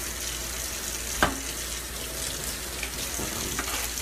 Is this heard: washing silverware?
yes